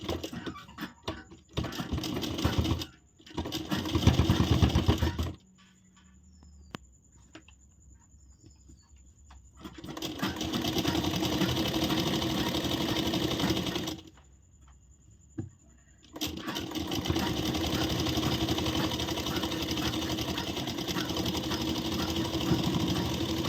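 A sewing machine stitches a blouse seam in several bursts, a fast whirring rattle that starts and stops, with quiet pauses between runs of stitching close to the microphone.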